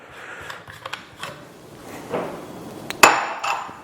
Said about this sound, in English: So you can completely unscrew that out.